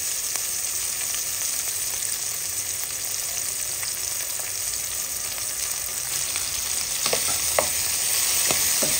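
Garlic sautés in a hot pan with a steady, bright sizzle, and a utensil stirs through it with occasional scraping clicks, close and continuous, no voices.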